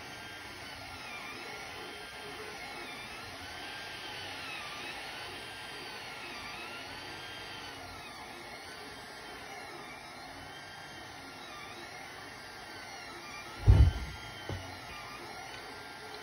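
A Creality Ender 3 3D printer printing a skirt on a glass bed: a faint, steady electric whir with rising and falling stepper-motor whines as the head moves, and a brief louder knock near the end, with no talk.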